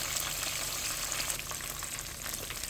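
Catfish fillets sizzle steadily in hot frying oil, a dense, continuous crackle with small pops throughout and no voices.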